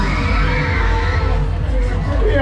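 Crowd of riders screaming and cheering on the Nightstyle swing ride at the Hochheim am Main fair, a dense, loud, continuous wash of yelling voices throughout.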